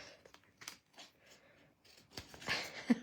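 Scissors snip through a paper gingerbread-man cutout for a handmade card, several quiet, close crisp cuts with faint rustling between them.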